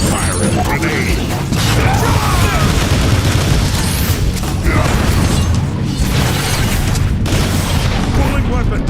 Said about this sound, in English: Fire a grenade!